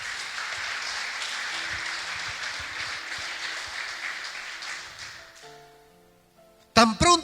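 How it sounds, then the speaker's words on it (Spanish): A church congregation applauds at a sermon, sustained loud clapping that fades out after about five seconds, followed by soft organ or keyboard tones and a burst of voices. "Denle un fuerte aplauso al Señor."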